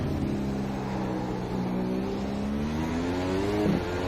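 A McLaren Honda MP4-30 Formula 1 car in a racing video game accelerates hard at Circuit of the Americas, its engine note climbing steadily through the revs in a single continuous pull over a rumbling background.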